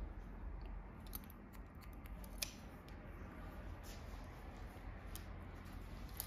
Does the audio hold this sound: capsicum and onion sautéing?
no